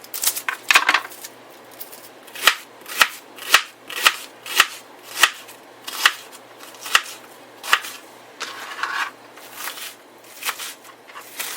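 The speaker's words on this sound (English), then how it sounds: "While I'm cutting this onion," A knife chopping an onion on a cutting board while cooking a casserole, a run of sharp crisp chops at an uneven rhythm of roughly one per half-second, close and clear with no talk.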